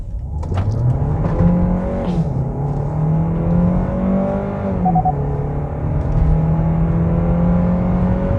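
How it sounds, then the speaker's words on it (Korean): A Kia K5 hybrid pulls away from a standstill and accelerates steadily, its engine and drivetrain producing a continuous droning whir with a rising tone, heard close and loud throughout without talk. "자연스럽게 출발을 하죠."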